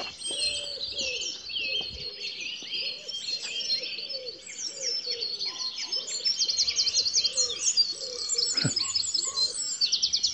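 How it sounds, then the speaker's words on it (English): Several small birds, a wren among them, sing in a busy chorus at close range, with rapid high trilling phrases overlapping continuously alongside lower cooing calls, with no talk. "What lovely wren in here."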